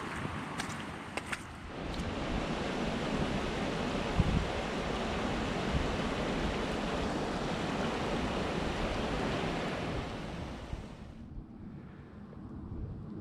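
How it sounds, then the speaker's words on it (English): A small muddy creek on a farm rushes hard in late season, a steady broadband roar of fast water close by that fills the scene without a break, then drops away sharply near the end. "Down through there's a little creek. It's just rushing like crazy."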